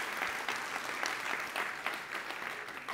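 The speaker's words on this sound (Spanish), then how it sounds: "si vamos a aplaudir todos juntos en el nombre del Señor" Congregation in a church clapping together steadily throughout, a dense continuous applause with no talk over it.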